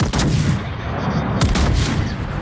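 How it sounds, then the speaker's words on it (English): Booming gunfire thuds in World of Warships, dull and echoing as if far off, with a couple of heavy reports rolling into each other. "Somebody on my team shot like 10 kilometers away"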